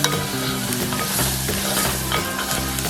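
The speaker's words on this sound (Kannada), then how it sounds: "ಇದಕ್ಕೀಗ ಶುಂಠಿ ಬೆಳ್ಳುಳ್ಳಿ ಪೇಸ್ಟ್ ಹಾಕ್ತಾ ಇದ್ದೀನಿ." Ginger garlic paste fries in a kadai with a steady, close sizzle, broken by repeated scraping and stirring strokes across the pan; no one speaks.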